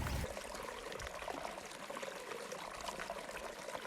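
Water flowing in Sullivan's Creek, a continuous soft trickling and splashing that stays fairly faint and even throughout, alone without any talk.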